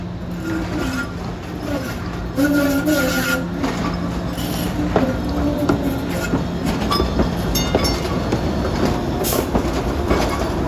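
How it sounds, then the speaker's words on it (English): An outbound SEPTA Route 13 trolley rolls along the rails out of a dark tunnel, a steady loud rumble with rhythmic wheel clatter, faint squealing and scattered metallic clicks throughout. "There's an outbound 13 emerging from the darkness."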